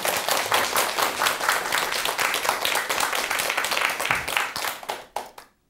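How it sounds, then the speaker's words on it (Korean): Audience applause at a Buddhist temple talk, dense steady clapping from many hands that keeps up evenly, then thins and fades out near the end. "큰 박수 한번 부탁드립니다"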